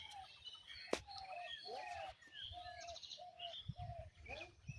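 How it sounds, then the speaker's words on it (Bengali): Several birds call and chirp in a bamboo grove at early morning, a series of short whistled phrases and tweets overlapping at moderate distance, with a sharp click and some low rustling in between; no speech. "এত সুন্দর পাখির ডাক সকাল সকাল, খুব ভালো লাগে"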